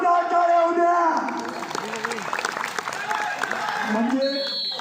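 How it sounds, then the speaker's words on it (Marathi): Applause from the audience at an Indian Navy vs South Central Railway kabaddi match in Mumbai, a broad crowd roar with clapping and raised voices that stays loud and busy throughout. "एकदा जोरदार टाळ्या होत्या"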